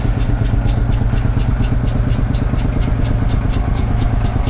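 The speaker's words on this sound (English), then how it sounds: "I've just spotted what looks to be a Showman's engine" A Fowler Showman's steam engine runs at a tractor festival, with a loud, close, steady rhythmic chuffing and mechanical clatter beating at an even pace.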